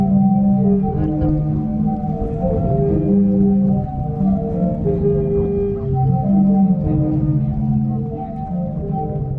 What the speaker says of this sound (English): ended the moment listening to the unique sea organ, a true marvel of sound